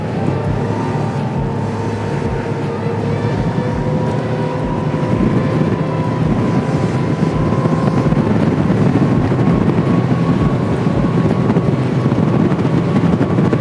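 Spearfish 32 sports boat running at about 47 knots on both engines, a loud, steady engine roar and hull rush with wind buffeting, continuous throughout with no talk.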